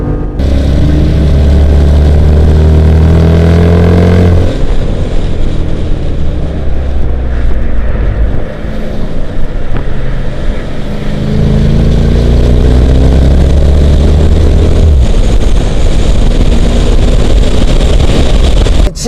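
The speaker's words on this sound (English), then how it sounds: "Listen to the sound of that 470 horsepower" A 2014 Jeep Grand Cherokee SRT's 470-horsepower engine roars continuously and loudly on a race track, revving up in rising sweeps as it accelerates hard uphill, with a deep rumbling undertone throughout.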